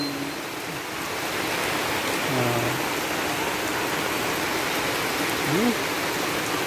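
Rain pours onto an umbrella in a steady, close hiss of drops, with a few short murmured vocal sounds breaking in over the downpour.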